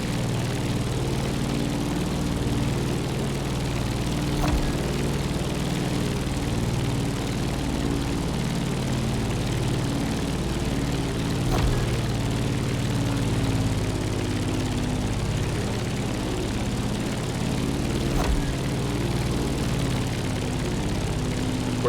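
Steady droning propeller airplane engine climbing in The Crew Motorfest over Hawaii, a continuous buzzing hum holding a constant level throughout with faint periodic ticks, no speech.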